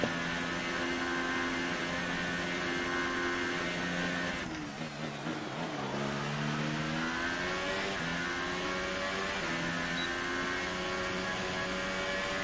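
A Formula 1 car in the F1 2018 racing game screams through a lap: a loud, steady high-pitched engine whine that dips and climbs through gear changes midway before holding its rising pitch.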